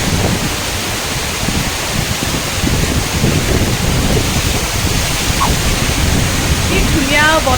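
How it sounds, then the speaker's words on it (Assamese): Steady wind and light rain wash over the microphone in a loud, continuous broadband hiss, with a brief faint chirp near the end. "ধুনীয়া বতাহ দি আছে অলপ অলপ বৰষুণ পৰি আছে"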